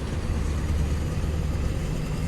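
A steady, low truck engine drone in a driving video game hums continuously at a fairly loud level, like a heavy truck rumbling along, with no voices.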